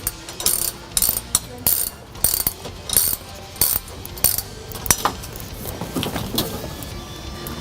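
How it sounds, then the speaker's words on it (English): A ratchet wrench clicks in short bursts while backing out the bolt on the battery hold-down bracket of a 2016-2026 Polaris General UTV, the rhythmic pawl clicks loud and close with brief pauses between strokes. "Now I'm going to remove the bolt that's securing down the battery hold-down bracket."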